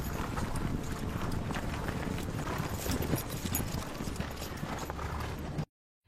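Hooves of a troop of mounted horses clip-clop continuously and loudly at a brisk pace, with a dense clatter of many hoofbeats and a faint whinny, ending abruptly in silence.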